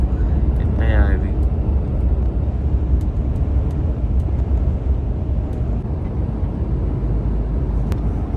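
At night, from a car on a German road, a landing airplane passes low overhead as a steady broad roar that blends with road noise, while people talk.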